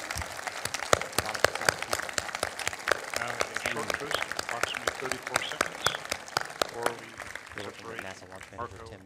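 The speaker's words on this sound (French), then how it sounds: "On peut applaudir vraiment." Audience applause with dense clapping fills a crowded room right after spacecraft separation is confirmed during the InSight launch, with voices talking over and through it.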